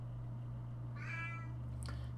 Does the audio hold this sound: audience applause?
no